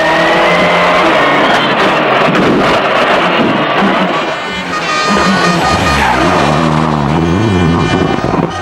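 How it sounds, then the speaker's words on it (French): The Peugeot 307 WRC rally car charges through a special stage of the Rallye Lyon-Charbonnière, its engine loud and close from inside, revving hard with gear changes and rising and falling pitch throughout. "nous sommes dans la voiture du leader, dans la Peugeot 307 WRC de Jean-Marie Cuoc"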